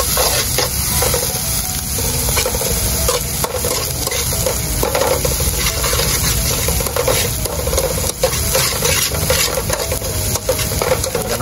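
Snails stir-fried with lemongrass and chili in a hot pan, sizzling loudly and steadily throughout with the scrape and clatter of a utensil stirring, no talking.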